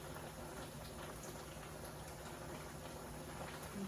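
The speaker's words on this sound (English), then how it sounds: "Can you hear that sizzle?" Steady, soft crackling sizzle of chickpeas and lemon frying in a hot skillet, continuous and even with no voices.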